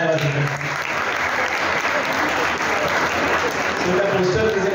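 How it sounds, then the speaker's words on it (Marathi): An audience at a science club event for Albert Einstein's birthday applauds the poster presentation winners in a loud, sustained round of clapping, with voices faintly mixed in. "सो एकदा त्या विनरसाठी जे कोणी असतील त्यांच्यासाठी एक जोरात टाळ्या वाजवतात."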